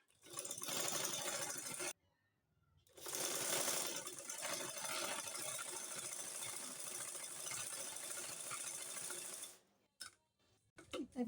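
A sewing machine stitches a burqa tie strip in long close bursts of fast, even needle chatter, stopping briefly after the first run, then resuming and running steadily before a few short final taps.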